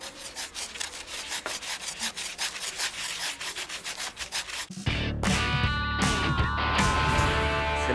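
Wood is sanded in a school woodworking workshop, with rapid rhythmic rubbing strokes at first, then a steadier, louder continuous scraping with knocks and squeaks.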